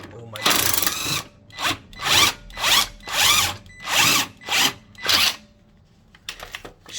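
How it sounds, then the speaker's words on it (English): An impact gun works a 18 mm nut loose on a long-abandoned Ford, firing in about seven loud, evenly spaced hammering bursts, each lasting roughly half a second, with brief pauses between them, then a few softer clicks at the end. "Okay, with the impact gun."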